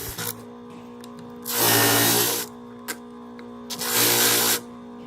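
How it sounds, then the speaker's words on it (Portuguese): Coarse sandpaper grinding down a wooden spoked wheel for a toy car, heard as two loud, rasping bursts of about a second each separated by quieter pauses. "O ideal é você usar uma lixa mais potente, porque precisa comer mais a madeira"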